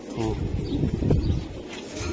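Iranian and Baghdadi Huma pigeons, a male and a female, give low, soft coos close by, partly mixed with someone talking over them.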